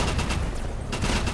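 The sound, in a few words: gunfire in a battle royale video game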